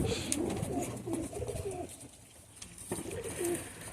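Young Warsaw butterfly pigeons coo in soft, repeated, throaty rolls close by, several calls overlapping over a low background hum, with no talking.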